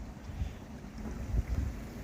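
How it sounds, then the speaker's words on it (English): Strong wind gusts at an anchorage aboard a boat, gusting up to 45 knots, a faint low rumbling buffet of wind noise rising and falling without voices. "it's gusting up to 45 knots"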